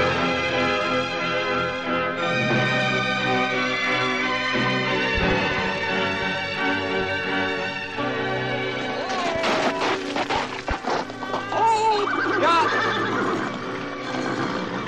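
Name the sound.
horse neighing and galloping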